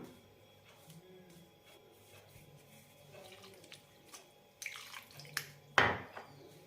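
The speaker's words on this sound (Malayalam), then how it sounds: "ഇനി ഇതിലേക്ക് കുറേശ്ശെ വെള്ളം ഒഴിച്ച് നല്ല കട്ടിയുള്ള മാവായി കുഴച്ചെടുക്കാം" Water pours into a bowl of flour for dough in short splashes, ending in one louder gush, over a quiet room with no talking.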